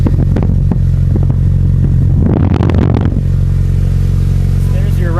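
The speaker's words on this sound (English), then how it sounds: "there's your Roush exhaust" A car fitted with a Roush exhaust rumbles loudly up close, a deep idle with a brief rev burst in the middle before settling back to a steady throaty burble.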